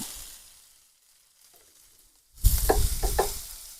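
Spices frying in a pan for Angamali-style pork curry, with near silence that breaks into a sudden loud sizzle and several quick scraping stirs close by, no talking.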